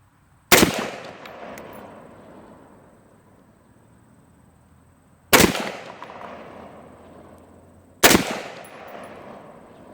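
Three sharp rifle shots fired at range targets, each a loud crack with a long decaying echo, spaced several seconds apart, no talking.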